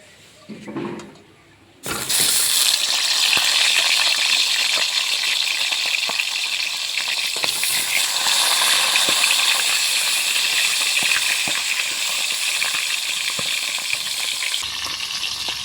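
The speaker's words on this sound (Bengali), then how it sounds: "প্রথমে আমি মাছের মাথা দুটোকে ভেজে নেব" Two fish heads from a catla fish go into hot oil and start to fry. After a brief quiet moment comes a loud, steady sizzle with crackles and occasional pops that carries on continuously to the end.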